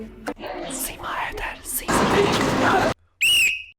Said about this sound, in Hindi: तभी अमूल्य ने सीटी बजा दी।